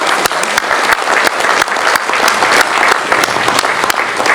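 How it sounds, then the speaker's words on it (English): Applause from an audience at a high-level African counter-terrorism meeting in Nigeria, welcoming a visiting delegation. Dense, steady clapping from many hands fills the room for several seconds with no talk over it. "please help us to applaud them for making their way to Nigeria"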